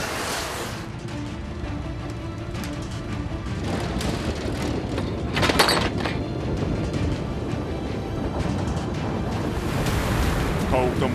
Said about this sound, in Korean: 더욱더 무섭게 몰아치는 파도.